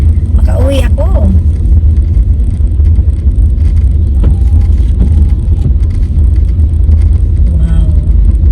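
Heavy road traffic crawls along a street under repair, a loud continuous low engine rumble and tire roar filling the scene from start to end, with a brief voice early on.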